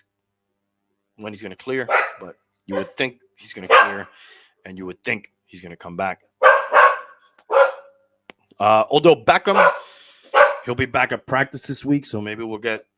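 A pet dog barks in the background of a home while someone talks continuously over it, the barking partly buried under his voice.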